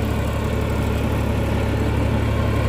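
A tractor pulling an inter-row weeder for sugarcane fields runs with a steady, loud, close engine drone and low rumble that stays even throughout, no voices.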